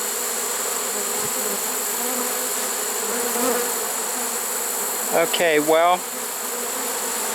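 A mid-sized swarm of honey bees gathers at a swarm trap, their buzzing a steady, moderately loud drone throughout, with a few brief words spoken near the end.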